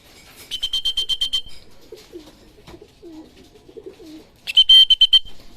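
Racing pigeons returning from a 125 km training release in Santa Fe, Nueva Vizcaya, with bursts of fluttering wingbeats near the start and again near the end, and soft low sounds in between.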